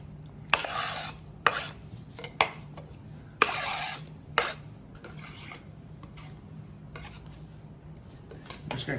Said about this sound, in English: I'm just gonna clean off our cutting board